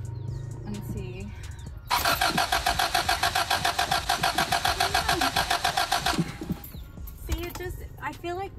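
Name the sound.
car engine cranking but failing to start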